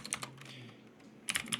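Keys tapped on a computer keyboard in quick clusters, a few clicks at the start and then a denser flurry at the end, close and fairly quiet.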